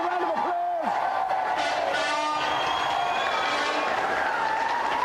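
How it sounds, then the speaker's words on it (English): Studio audience applause and cheering on a games television show, a steady broadband wash of clapping that fills the whole stretch after a brief voice at the start. "Let's have a round of applause."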